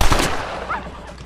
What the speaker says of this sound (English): Get you a taste of this bullet. From my nice revolver.